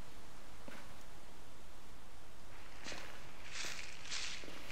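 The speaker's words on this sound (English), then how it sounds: "I could have sworn I heard footsteps." A few footsteps crunch over rustling ground in the video game Slender: The Arrival, irregular and fairly close, amid steady hiss, with no talking.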